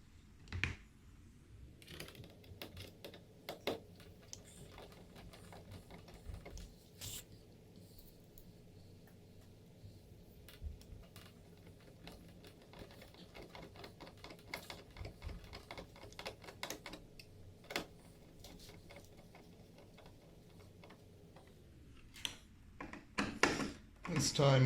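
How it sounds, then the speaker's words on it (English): Screws are reinstalled on the tailwheel of a Pilot Edge 540 v3 20cc RC plane, with faint, close ticking and clicking from small parts and a driver, and soft scattered taps over a quiet room. "now we can go ahead and reinstall our screws"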